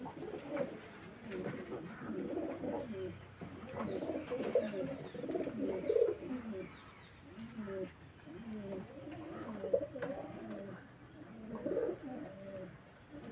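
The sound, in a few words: pigeons cooing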